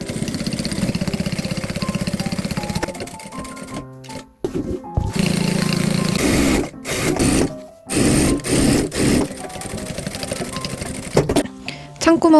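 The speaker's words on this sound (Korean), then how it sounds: "창구멍 제외하고 전체 둘레를 1cm 간격으로 재봉을 해줬고요" Sewing machine stitching around a bag lining with a 1 cm seam allowance, leaving a turning gap; steady mechanical whirring runs in bursts with brief pauses and stops between passes.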